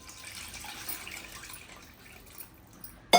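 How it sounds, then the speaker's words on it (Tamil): Tamarind water being poured into a simmering kuzhambu, a soft, uneven liquid trickle and splash that sounds quiet and close, ending in a brief louder knock. "இப்போ இது கூட கரைச்சி வச்சிருக்கிற புளி தண்ணி ஊற்றிக்கலாம்."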